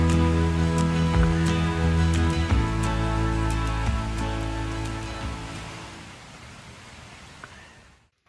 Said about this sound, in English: So it looks like the rain is basically finishing up.